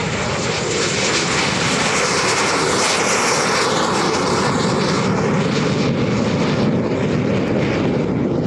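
A Lockheed T-33 jet trainer, a two-seat stretched development of the P-80, roars past at a warbird airshow, with a loud, steady broadband engine rush holding throughout and no voices over it.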